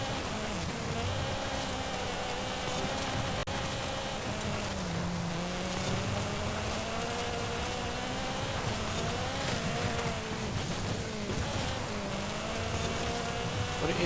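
A 2010 Renault Megane RS 250 hot hatch in Forza Horizon 5 drives continuously, its engine note rising and falling through gear changes over a steady road roar, with no voices.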